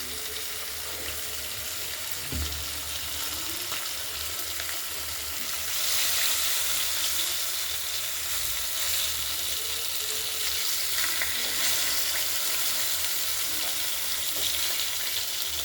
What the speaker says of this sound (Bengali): মাছগুলো ভাজি